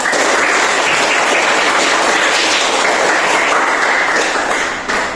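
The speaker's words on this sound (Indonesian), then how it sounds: "Nah, tepuk tangan buat kita semua." Group applause from a class in a school learning session, steady continuous clapping from many hands throughout, loud and close.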